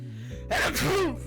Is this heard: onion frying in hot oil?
no